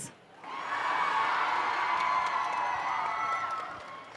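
Blue Alliance supporters erupt in loud cheering, whoops and some clapping at a FIRST Tech Challenge robotics state championship in Michigan, the crowd noise swelling after a brief lull and holding steady before tapering off.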